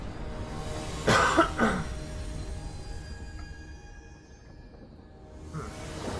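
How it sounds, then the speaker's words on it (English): A couple of harsh coughs burst out close to the listener, one right after the other, then fade into a quiet room hum. "I apologize for having such a bad cough."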